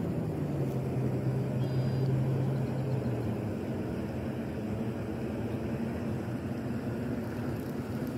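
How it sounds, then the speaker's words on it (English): Jet airplanes on approach to DFW airport pass overhead, a steady low broadband roar with a slowly falling drone, continuous and moderately distant against an outdoor wash of noise near ponds and lakes in Lewisville, Texas. "Hear those planes flying overhead. They're heading into the DFW airport."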